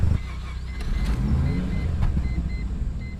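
A 1995 Mazda RX-7 FD rotary engine cranks and catches, settling into a loud, steady, close-up idle with a deep low rumble and a faint mechanical whine on top.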